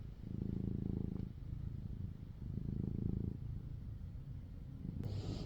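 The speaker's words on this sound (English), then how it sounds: "listen to him purr" A new pet cat purring up close, a steady low rumble that swells and eases in a slow rhythm with each breath, ending in a brief rustle.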